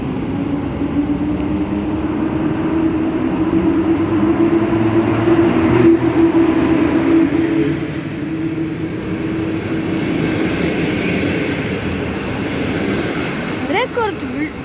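A long freight train of many wagons rolls loudly and continuously through Zawiercie station, its wheels squealing and rumbling close by for the whole stretch.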